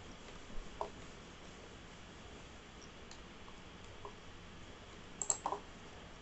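A computer mouse clicks faintly in a quiet room, a few isolated sharp clicks spaced apart, then a quick cluster of clicks near the end.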